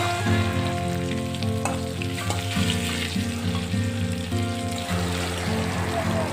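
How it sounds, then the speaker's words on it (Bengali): Potato pieces fry with turmeric in hot oil for a spicy dry potato and okra curry, giving a steady, close sizzle that runs throughout over background music. "আলুটা কিন্তু ভাজা হয়ে গেছে"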